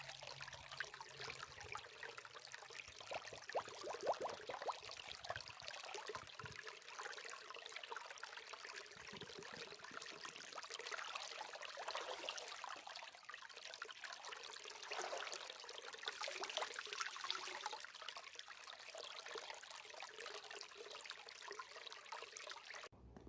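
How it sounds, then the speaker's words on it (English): Cold water poured from a Smartwater bottle as a makeshift shower at a campsite, a continuous splashing trickle that runs for about twenty seconds with slight surges, close and moderately loud, no voices. "Smart water bottle cold shower."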